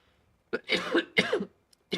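A streamer breaks into a coughing fit during a Fallout 4 livestream: several close, harsh bursts in quick succession, with short pauses, then one more cough after a brief gap.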